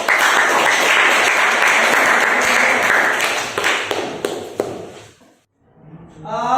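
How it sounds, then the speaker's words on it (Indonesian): Students in a vocational classroom clap for a group that has just finished its presentation, with dense applause that thins into a few scattered claps and then stops. A brief voice follows. "tepuk tangan buat kelompok 4"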